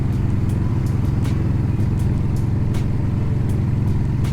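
A motorcycle engine thrums steadily while riding, a loud, low, continuous rumble close to the microphone, with wind buffeting over it and no talk.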